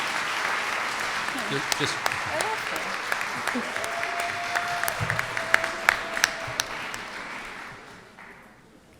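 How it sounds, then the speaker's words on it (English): Audience applause at a school deliberative session, steady clapping from a room of people with a voice speaking over it, fading out toward the end. "I didn't want to cut off the applause."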